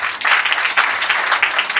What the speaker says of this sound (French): On a applaudi pour lui, s'il vous plaît.